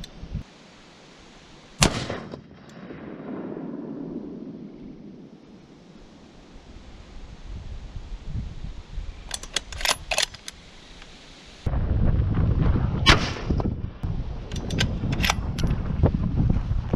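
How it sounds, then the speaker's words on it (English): A Remington 700 PCR 6.5 Creedmoor precision rifle fires a series of sharp, widely spaced shots that crack through steady, heavy wind noise outdoors, with a louder, rumbling stretch near the end. "I'm gonna shoot a 5-round group."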